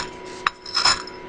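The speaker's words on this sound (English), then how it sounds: "you just grind it down into fine powder" A hammer grinds material down to fine powder against a metal striking plate, producing short gritty scraping rubs, one sharp click and a louder rasping burst near the end.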